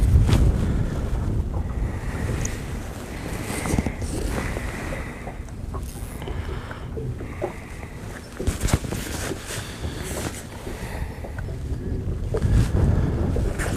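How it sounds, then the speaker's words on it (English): Strong wind buffets the microphone in uneven gusts while fly fishing, rising and falling in loud bursts over a rough background wash. "these wind gusts are getting pretty strong"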